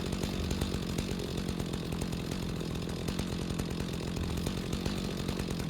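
A chainsaw cuts trees in the video game Rising World, giving a steady, continuous buzzing drone that stays loud and unbroken throughout, with no talking.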